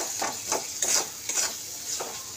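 A Bengali lote (Bombay duck) fish curry masala with tomato and green chilli is stirred and sautéed in a pan, about five rhythmic scraping strokes over a light, close sizzle.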